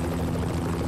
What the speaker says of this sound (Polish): Ten helikopter nadal trochę leci, tak?